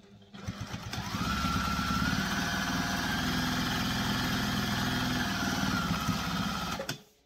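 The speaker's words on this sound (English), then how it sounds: "So now I'm just going to baste that along the edge." A sewing machine runs steadily for about six seconds, basting along the edge of a sling bag, its motor whirring at an even close-up drone that starts and stops abruptly.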